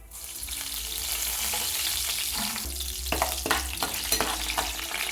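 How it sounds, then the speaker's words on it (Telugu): Urad dal and mustard seeds fry in hot oil for a tempering, giving a loud, continuous close sizzle, with several sharp crackling pops and spatters toward the end. "ఇప్పుడు మినపగుళ్ళు వేసుకోవాలండి వేగనివ్వాలి"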